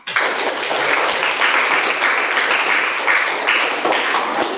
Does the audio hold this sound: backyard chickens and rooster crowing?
no